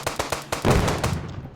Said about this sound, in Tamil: இது சுட்டு பார்க்கலாம் வெடிக்குதானே பாருங்கள்.